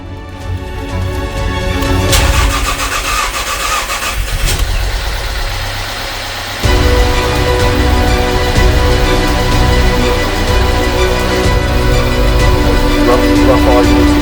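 A Volkswagen Polo with a swapped engine cranks over with a loud starter whir, catches and settles into a rough, uneven idle that keeps running steadily, heard close with no talking.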